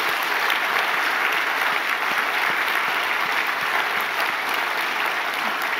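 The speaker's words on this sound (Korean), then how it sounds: "먼저 우리 하나님 앞에 영광의 박수 올려드리도록 하겠습니다." A church congregation claps after an Easter Sunday cantata service, a loud, dense, continuous round of applause from many hands filling the room without pause.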